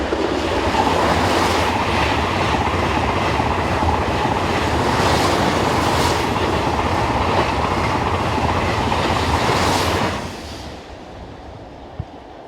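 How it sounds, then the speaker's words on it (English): Two TGV Sud-Est high-speed trainsets, one in Carmillon livery, rush past close by with a loud, steady rushing rumble and rhythmic rail clatter, then drop away sharply after about ten seconds to a quieter tail. "A pair of TGV Sud-Est trainsets head south."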